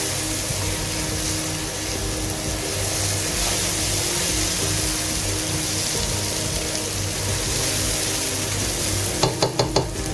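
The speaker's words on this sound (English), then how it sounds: "Continue cooking the ginger garlic until the raw smell is not gone away." Ginger garlic paste frying in a pan for mutton curry, a dense, steady close sizzle like rain on a surface, ending with a few sharp stirring taps.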